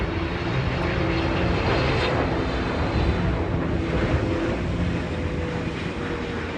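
A Speedbird 213 Heavy airliner landing on the runway gives a steady, loud jet roar that fills the whole stretch with broadband rumble and buffeting wind noise, continuous and unbroken.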